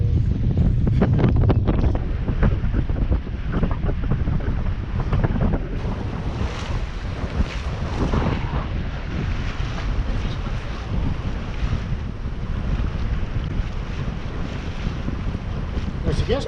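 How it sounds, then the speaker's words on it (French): A roughly 14-knot wind rushes past a sailboat cruising the Ionian Sea in June, with water washing along the hull. Constant loud wind buffets the microphone throughout, steady and close, with no talking. "Le vent forcit un petit peu à l'approche de la terre. Là on a 14 nœuds de vent."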